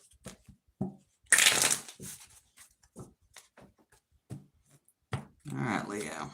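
Tarot cards are shuffled in short bursts of riffling and snapping between pauses, close and fairly crisp, with a person talking intermittently around them.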